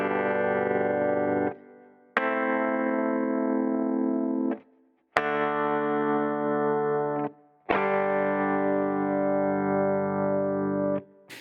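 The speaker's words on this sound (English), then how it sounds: "So here's just some chord playing." Electric guitar strumming chords through a Line 6 Helix clean patch, four long sustained chords with sharp attacks and short silent gaps between them, sounding heavily compressed with some chorus and reverb, alone and up front.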